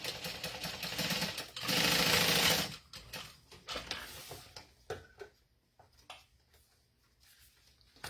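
A sewing machine at 4 stitch length sews a pocket into the lining of a Zip N Go bag, giving a loud burst of close, steady stitching that stops, followed by scattered clicks and handling noises.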